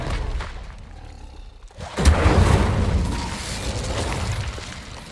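Incendio fire spell cast in Hogwarts Legacy: a sudden loud whooshing burst of flame follows a short quiet moment, then a sustained roaring crackle of fire continues to the end.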